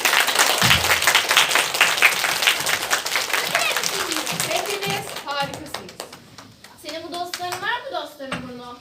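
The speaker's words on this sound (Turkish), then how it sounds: "bu alkış seslerini de mi duymuyorsun?" An audience at a children's theatre performance of Puss in Boots claps in a dense burst that fades over several seconds, giving way to children's voices and talk.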